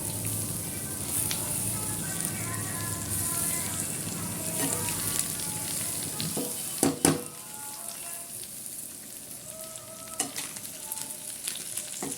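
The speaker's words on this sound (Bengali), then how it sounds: "আর এটা বিরিয়ানির মাংস কষাতে দিয়েছি, কষুক আস্তে আস্তে।" Biryani meat slowly braising in a pan, a close, steady sizzle and crackle with stirring scrapes and a few sharp utensil knocks midway, fading slightly afterward.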